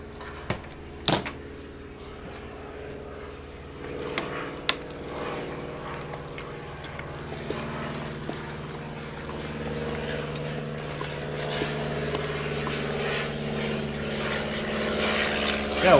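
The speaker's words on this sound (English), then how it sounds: "Go away, plane." A propeller airplane drones overhead during a home brewing session, a low steady engine hum that slowly grows louder across the span, with occasional clinks and knocks nearby.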